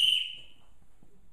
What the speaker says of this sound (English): Take a whistle.